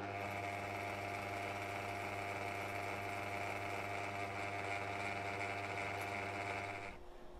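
A Singer 319 sewing machine running steadily, a continuous whirring motor drone with a fast mechanical needle rhythm, close and even, stopping abruptly near the end.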